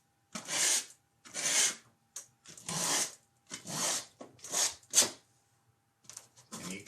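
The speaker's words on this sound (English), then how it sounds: "scrape off the excess paint." Excess paint is scraped off a painting in a series of short, rasping strokes, about eight separate scrapes with brief pauses between, close and fairly quiet.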